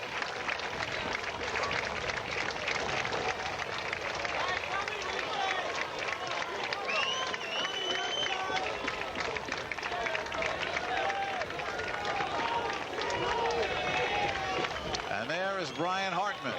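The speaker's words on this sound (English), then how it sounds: "There's the crowd." Stadium crowd at a college baseball game between Ohio State and Minnesota, a broad steady murmur and cheering under a commentator's close voice.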